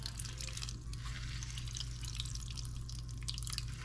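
Water dripping and trickling from squeezed tofu into a bowl, a steady close patter of small drops over a low kitchen hum, with no talking.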